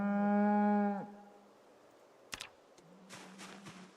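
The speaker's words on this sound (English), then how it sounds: "You're a cow, Harry." A cow in the survival game Project Zomboid gives one loud, drawn-out moo lasting about a second. Quieter clicks and soft in-game sounds follow, and there is no talking.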